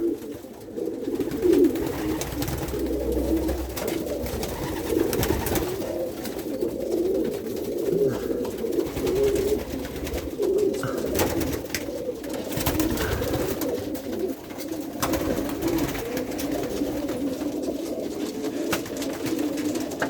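Pigeons coo steadily and continuously inside a loft housing birds from Germany, a dense layered murmur of overlapping coos running unbroken throughout.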